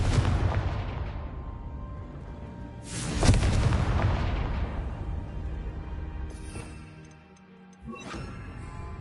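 Confringo, an explosive spell in the video game Hogwarts Legacy, goes off as a loud booming blast with a sharp crackling burst, then rumbles down among other layered game effects and a few smaller thumps.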